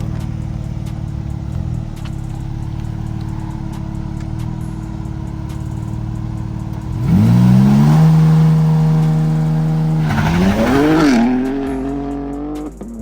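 A BMW M5 held on a brake-boost launch, the engine droning steadily loud before revving hard and pulling away, its pitch sweeping up through the gears as it accelerates close by, with no talking.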